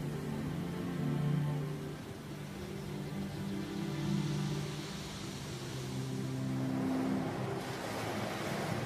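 Wind and ocean waves from the video game Far From Noise: a continuous wash of surf and breeze, rising and falling gently in steady swells with no voices.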